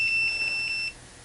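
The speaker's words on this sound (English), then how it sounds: "Wow, the beeping sound is really annoying." A thin, high electronic beep from a ToolTop ET829 multimeter repeating in quick pulses for about a second, then stopping, over a quiet room.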